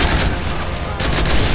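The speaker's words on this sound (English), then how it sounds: "I like that grenade a lot" A grenade explodes in Modern Warfare 3, a loud, dense roar of blast and crackling debris that dips briefly and then swells again, close and overwhelming.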